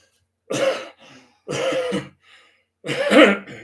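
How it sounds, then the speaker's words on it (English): Three harsh coughs close up, each a rough burst about half a second long separated by short pauses, with faint breathy rasps between. "Terrible this cough or cold weather I've got."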